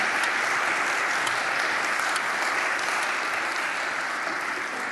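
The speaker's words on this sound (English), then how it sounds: "Let's give God a hand." Sustained audience applause at a twelve-step recovery meeting, a dense, steady wash of clapping from a crowd lasting the full stretch without letting up.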